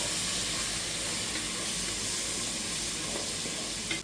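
Chopped onion sizzles in a pan, a steady, even hiss of frying that continues without a break and without talk.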